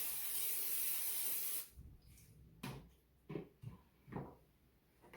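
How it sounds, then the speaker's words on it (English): A can of cooking spray hisses in one steady burst into a microwave stack cooker cone for a carrot cake, followed by quieter rustles and light handling knocks. "I'm going to spray this with cooking spray."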